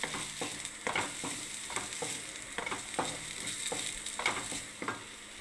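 Radish slices for mulo bhaja fry in a pan, a low continuous sizzle under a regular rhythm of spatula scrapes and stirring knocks, fairly quiet and close, with nobody talking.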